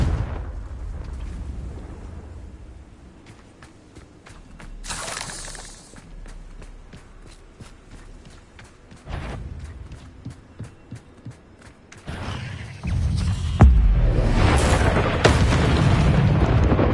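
Spell explosions from Hogwarts Legacy combat, loud booming blasts with shattering bursts, sparse at first then a heavy, sustained explosive roar near the end, punctuated by rapid clicking.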